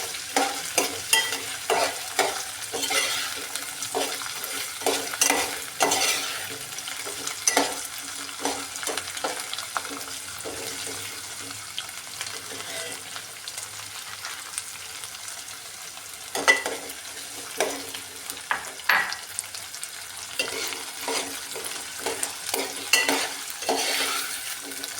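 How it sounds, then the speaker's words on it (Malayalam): Garlic and ginger stirred while frying in a pan for lime pickle, with steady sizzling and repeated scraping, clinking stirs throughout, close and alone with no talk. "ഞാൻ 1/2 കപ്പോളം വെളുത്തുള്ളി തന്നെ അതിനകത്ത് ഇടുകയാണ്. നന്നായിട്ട് ഒന്ന് ഇളക്കി കൊടുക്കണം."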